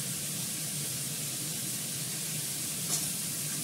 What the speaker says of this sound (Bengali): দিয়ে দিচ্ছি জিরে ফোড়ন